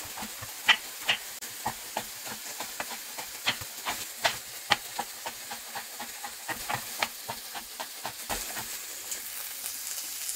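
Chicken pieces searing in a hot pan, a steady crackling sizzle with frequent sharp pops and spits, moderately close, with no talk over it.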